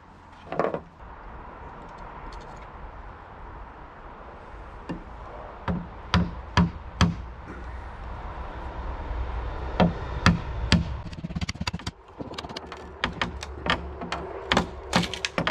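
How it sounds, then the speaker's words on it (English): Sharp metallic strikes of a hammer on a pry bar, several irregular blows then quicker bursts of taps, close and loud, with no talking. "I'll try the pry bar again with a hammer assist."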